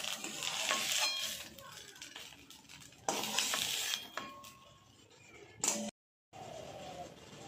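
Fried bottle gourd leaves stirred in a pan, with bursts of sizzling and scraping in several uneven waves, quieter stretches between them and a short dropout near the end.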